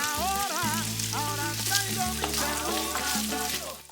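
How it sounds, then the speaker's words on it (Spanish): Bacon frying in its own rendered fat in a pot with no oil, a continuous hiss and crackle sitting under prominent tonal music. "cazuela al fuego y de una vez ya agregamos el tocino sin nada de aceite, puesto que el tocino va a desprender su propia grasa"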